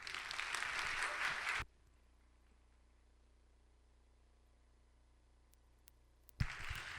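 Church congregation applauding warmly to welcome a guest evangelist to the stage at a Friday chapel service: a dense burst of clapping that ends abruptly, a stretch of near silence, then the applause returning sharply.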